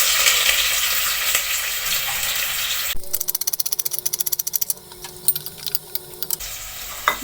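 Chopped ingredients for potato soup fry in a pan, a dense hiss of sizzling at first, then quieter frying with a rapid run of rhythmic clicks and taps, close up.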